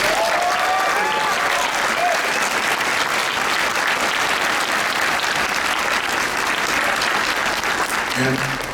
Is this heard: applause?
yes